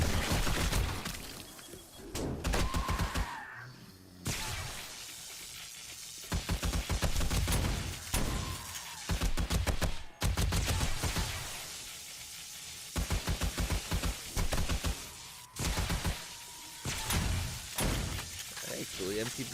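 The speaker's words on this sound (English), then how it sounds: "Get our shotgun turrets." Shotgun turrets and an M60 with a drum magazine keep firing through a horde-night defence in the video game 7 Days to Die, in dense rapid bursts with short gaps. Someone talks over the gunfire.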